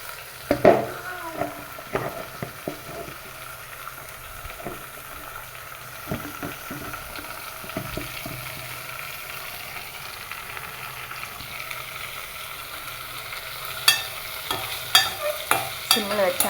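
Bottle gourd pieces being stirred as they fry in oil in a pan, with a steady soft sizzle and scattered scraping clicks from the spoon, sometimes louder; no one talks.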